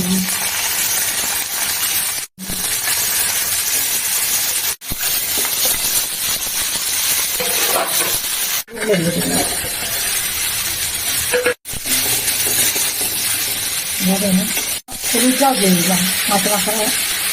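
Onions sizzling and frying in a pan during cooking of a potato-and-aubergine fish curry, a steady close hiss running throughout, broken by a few short gaps, with someone talking over it.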